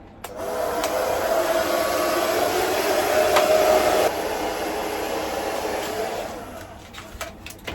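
A hair dryer blows steadily and loudly for several seconds while styling hair, the airflow shifting slightly in tone before it tapers off and clicks.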